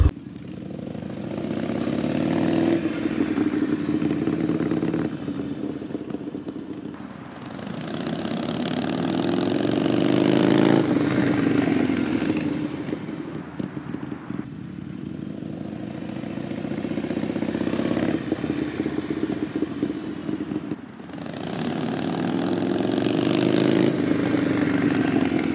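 A Harley-Davidson Sportster fitted with a Gallop Flying Comet exhaust makes a slow first-gear pass at about 2,000 RPM, a loud, steady, lumpy rumble that swells and eases in waves throughout.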